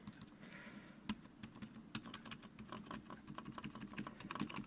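Keys clacking on a Defender Balance LQ keyboard sitting unevenly on a desk, a quick irregular run of sharp clicks and rattles close up with no voices.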